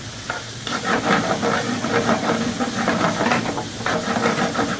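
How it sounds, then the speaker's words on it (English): Garlic sizzles and browns in olive oil for a chicken cacciatore, a loud continuous frying hiss with rapid crackling and stirring textures that carries steadily from start to finish, without talk. "I want to bring that garlic right to that brown point. Where you can smell that garlic and olive oil."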